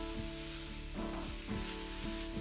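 Garlic, spring onion and sesame seeds sizzle steadily in a tiny skillet, a soft continuous frying hiss with a few faint clinks of stirring, quiet and close.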